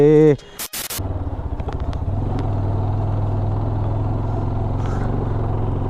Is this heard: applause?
no